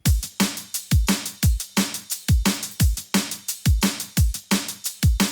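A punchy looping liquid drum and bass drum pattern of layered samples, with deep thumping kicks and crisp snappy hits, repeating steadily at a fast tempo.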